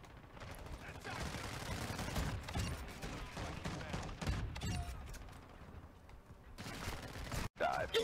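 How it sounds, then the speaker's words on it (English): A mortar strike rains down in a multiplayer video game, producing a quiet, continuous stretch of rumbling blasts and crackling gunfire-like bursts that rise and fall over several seconds, ending with a brief sharp gap and a few final pops. "Die from my mortar strike"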